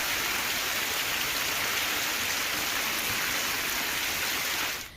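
Steady rain falls in an even, dense hiss that stays constant from start to finish, with no voices.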